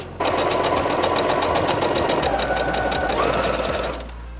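A sewing machine runs at a fast steady rhythm for about four seconds while stitching stretch fabric for a custom T-shirt, a close mechanical whirr and tapping needle that stops abruptly near the end.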